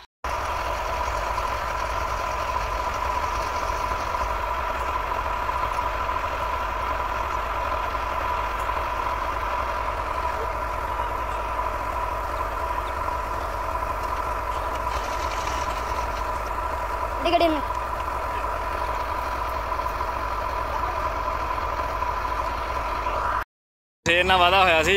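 A Massey Ferguson 385 tractor engine runs at a steady idle for the whole stretch, a continuous mid-to-low rumble heard up close. Speech is faintly mixed in, and there is a brief dropout near the end.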